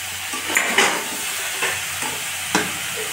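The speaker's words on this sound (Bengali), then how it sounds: "তারপর এখানে দিয়ে দিচ্ছি কেটে রাখা ঝিঙে, দিয়ে খুব ভালো করে সবজির সঙ্গে মশলাটাকে মিশিয়ে নেব" Ridge gourd and spices are stirred in a frying pan, with a steady sizzle under several distinct scraping strokes of a spatula against the pan, close and without talking.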